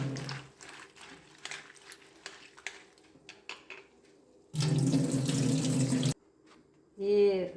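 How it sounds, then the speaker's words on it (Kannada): Tap water runs steadily over freshly cut cucumber pieces in a home kitchen sink, a loud broadband gush lasting about a second and a half, with quieter handling clatter before it and a brief second splash at the end. "ಹಾಗೆ ಇದನ್ನೀಗ ಒಂದು ಬಾರಿ ತೊಳೆದುಕೊಳ್ಳುವ."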